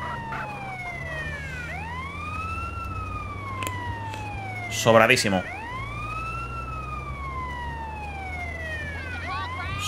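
An ambulance siren from the video game GTA San Andreas wails in repeated rising and falling sweeps over a constant engine hum, with a brief burst of a voice in the middle.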